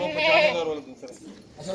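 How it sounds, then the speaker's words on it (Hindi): A goat on a goat farm lets out one loud, close bleat lasting about three quarters of a second, followed by quieter farmyard sounds and someone talking. "वो तो बड़ा बकरा ले आओ ना, वो भैंस की तरह बना हुआ बकरा"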